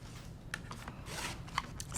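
Quilting fabric cut into squares along a 6.5 by 12.5-inch ruler, giving a soft, continuous slicing rasp with a few sharper clicks near the end, close and quiet, no voices.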